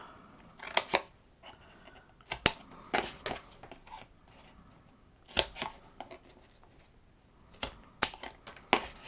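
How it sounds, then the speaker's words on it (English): Scissors cut out the corners of a handmade baby folio book cover in clustered, crisp snips and crunches, with short pauses between bursts, close and fairly quiet. "we're going to cut our corners out"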